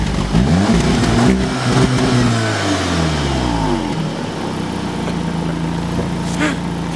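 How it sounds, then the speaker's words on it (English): Engine of a 2018 Volkswagen Golf R with quad-tip exhausts, loud and close, rising through a throaty rev before easing down to a steady idle rumble. "One of the most popular features of the 2018 Golf R is just the way she sounds when she starts up, thanks to the fully functional quad-tip exhausts."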